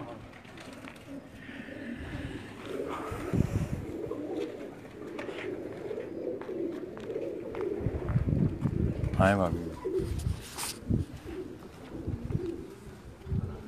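Racing pigeons coo and flutter around a rooftop in Quetta, soft calls and wingbeats scattered through the scene while someone talks over them.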